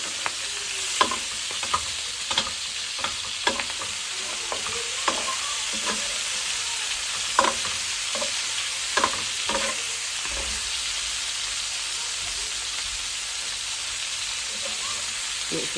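Sausages sizzle and fry in a pan while a utensil stirs them, giving a steady close crackle broken by frequent scraping clacks, with no talking.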